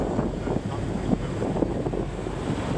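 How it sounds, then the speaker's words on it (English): A dory fishing boat off Pacific City on the Oregon coast heads into breaking surf, with loud continuous roar of wind and crashing waves buffeting the microphone throughout. "Look at that, right into the surf."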